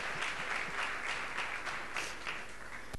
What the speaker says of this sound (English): See, they're just going to clap.